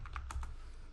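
Short burst of keystrokes on a computer keyboard while a router configuration is entered, about four quick taps close by, quiet and without speech.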